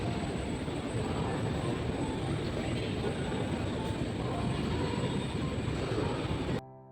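Steady engine roar and broadband rumble fill the arrival area at Nagpur airport, loud and constant without a break until the sound cuts off abruptly near the end.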